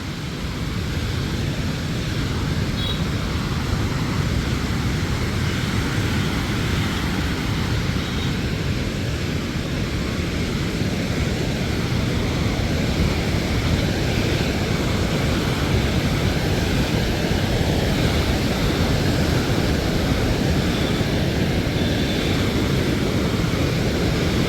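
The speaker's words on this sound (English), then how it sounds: "it definitely picked up the waves" Ocean surf rolls onto My Khe Beach in Da Nang, Vietnam, after a windy night: a steady, dense wash of breaking waves, fairly loud and continuous with wind rumble, no speech.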